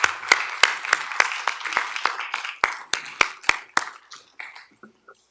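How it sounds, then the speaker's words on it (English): A small group at a county board meeting gives a round of applause to a presentation team, about a dozen sharp, evenly spaced claps that slow and fade out near the end, fairly quiet and with no talk over them. "a round of applause to the FRP team for their success"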